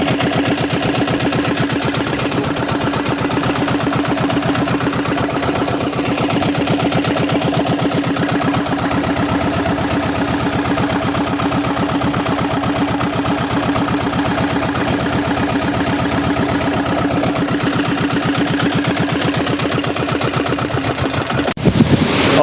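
A fishing boat engine idling steadily to warm up after sitting unused for a long time, a loud, close, unbroken mechanical drone with a constant throb throughout and a brief clunk at the very end.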